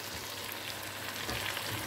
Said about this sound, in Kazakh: Міне осылай қуырылып жатыр.